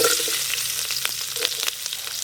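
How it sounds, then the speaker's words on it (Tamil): Chopped onions sizzle in a pan with cloves, cardamom, cumin and curry leaves for malai chicken, a brief, close, dense frying hiss with a few soft stirring taps. "நறுக்கி வச்ச வெங்காயம்"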